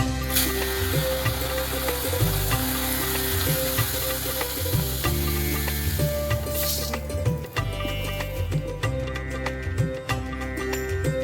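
Flattened rice poha frying in oil for a crisp Diwali chivda, a steady close sizzle with repeated scraping and stirring of a spoon through the pan, no talking.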